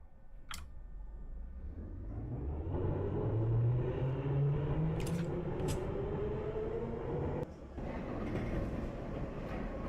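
A Russian metro train runs in the game Metro Simulator 2, with a rising motor whine and a steady rolling rumble that builds and holds, plus a few sharp clanks and a brief dip in the noise.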